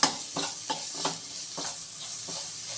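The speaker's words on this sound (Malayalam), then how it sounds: "നല്ലപോലെ ഒന്ന് ഇളക്കി കൊടുക്കാം." Chicken with fried coconut, onion and coriander leaves is stirred in a frying pan, soft repeated scraping strokes over a light, steady sizzle, close and without talk.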